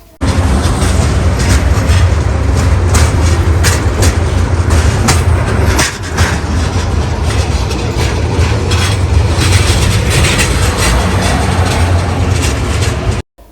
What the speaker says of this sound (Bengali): আমরা এখন সেতুর উপরে সর্বোচ্চ 20 কিলোমিটার স্পিডে অতিক্রম করতেছি যমুনা সেতু